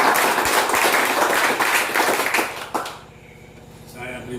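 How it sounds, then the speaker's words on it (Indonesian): Audience clapping at an Indonesian church-style gathering, a dense burst of claps filling the first few seconds before stopping abruptly, leaving a quieter hum and faint voices. "Tepuk sekali lagi."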